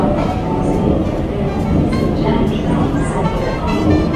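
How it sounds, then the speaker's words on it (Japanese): A train pulls into a Sydney station on a rainy day, a loud steady rumble and rolling roar close by throughout, with some background voices. "今電車入ってきました。"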